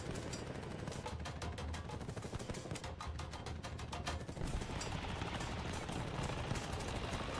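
Artillery and gunfire in a tank battle video game, a dense, continuous barrage of rapid bursts and booming impacts with steady rumble throughout, loud and close, no talking.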